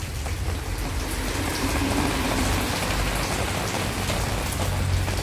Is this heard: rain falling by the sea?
yes